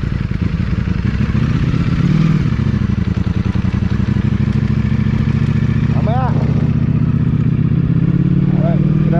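A Yamaha motorcycle engine rumbles loudly and steadily up close as the bike pulls away and rides off, its drone rising slightly in pitch.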